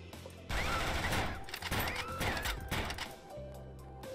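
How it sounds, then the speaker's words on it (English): Rapid bursts of shotgun fire in the video game Neko Arena, loud clustered blasts with crashing impacts, then a quieter hum as the shooting stops. "I've got to try the shotgun, guys. I have to try the shotgun"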